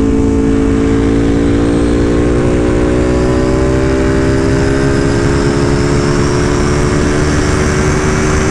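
Sport motorcycle with a loud aftermarket racing exhaust, a steady deep roar with rising engine tone as it runs close by, constant and dominant throughout.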